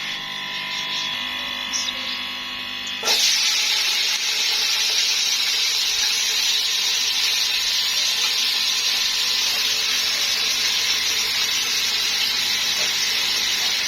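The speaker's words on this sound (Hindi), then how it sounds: "अब मैं ऑयल थोड़ा सा गर्म हो जाए फिर मैं इसमें डालती हूँ गाजरें" Carrots tip into hot oil in a cooking pan for vegetable fried rice, bursting into a loud, steady hiss of sizzling that carries on unbroken after a quieter hum of kitchen background.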